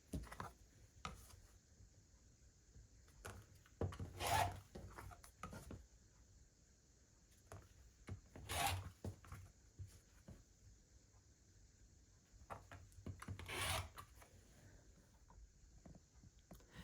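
A blade slices through stacked quilting fabric to cut 2.5-inch squares, giving three short, crisp scraping swipes spaced several seconds apart, with faint handling taps and rustles in a quiet room between them.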